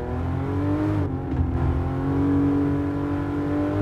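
A new Toyota Supra's engine in Gran Turismo Sport holds a steady, loud drone with a brief dip before climbing again, with no talking over it.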